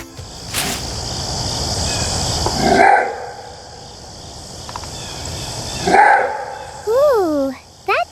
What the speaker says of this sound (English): that's a strange sound. Half bark, half howl. Who could sing like that? It's the maned wolf.